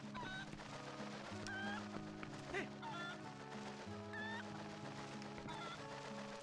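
Short, quiet clucks from a chicken in Zelda: Twilight Princess HD repeat at a loose rhythm over a steady in-game music drone and low ambient hum.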